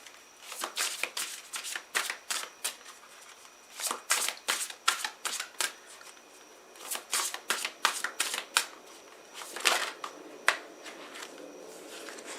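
Tarot cards are shuffled close by in repeated quick riffling bursts with short pauses between them, alone without talk.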